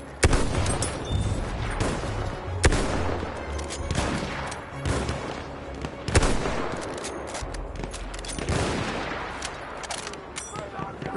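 A Battlefield 1 artillery barrage mixed with gunfire: a continuous, loud battle din with scattered sharp shots and heavy booms, and voices under the combat noise.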